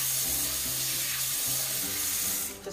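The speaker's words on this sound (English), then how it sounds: "before we start anything in the kitchen, we're going to wash and sanitize our hands" Tap water runs steadily into a kitchen sink during handwashing, a constant close hiss and splash with a low hum underneath that cuts off near the end.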